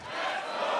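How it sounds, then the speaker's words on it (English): Esports arena crowd at the Rainbow Six Berlin Major 2022 roars in a dense, sustained wash of cheering and shouting, loud and steady throughout a brief burst with no clear talk. "It takes one loud voice and a willing crowd."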